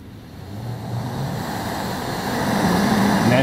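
An MSR Pocket Rocket Deluxe camping stove burner runs on high, giving a steady, close, broadband roar that grows slightly louder over a few seconds.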